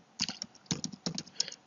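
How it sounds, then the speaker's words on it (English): Quick clusters of crisp keystrokes on a computer keyboard, typed in short close bursts with brief pauses in a quiet room. "I will just type in this thing."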